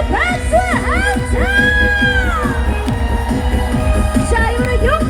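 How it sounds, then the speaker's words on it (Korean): A large outdoor concert crowd at a district-day show in Gyeyang, Incheon, claps and cheers continuously over loud band music and a singer's sustained, sliding vocal lines. "즐거우신 분들은 박수 함성"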